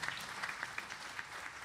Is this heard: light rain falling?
no